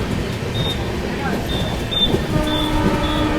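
The AP Sampark Kranti Express rolls along, heard from on board as a continuous loud rumble of wheels on track with faint high whines rising and fading.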